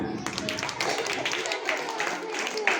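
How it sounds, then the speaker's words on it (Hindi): Spectators at a school science project exhibition give a hearty round of clapping, a lively continuous patter of hands with voices mixed in among the crowd. "इसके लिए जोरदार ताली हो जाए।"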